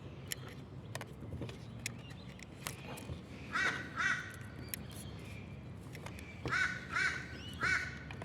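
A crow caws outdoors in two separate bursts of rough, repeated calls, each with two or three caws. The calls sound moderately distant over faint background noise and scattered clicks, with no talking.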